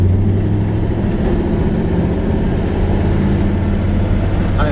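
A 1938 Ford truck with a manual gearbox drives along, its engine giving a loud, steady low rumble with road and cabin noise blended in throughout.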